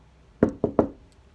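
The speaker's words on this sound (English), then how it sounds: "knock on wood." Three quick, dull knocks on wood sit close and moderately loud in an otherwise quiet room, the second and third landing closer together than the first pair.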